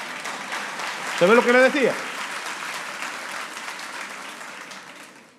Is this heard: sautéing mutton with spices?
no